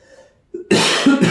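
One short, sharp cough from a woman close to the microphone, preceded by a faint breath and followed by a brief rough tail.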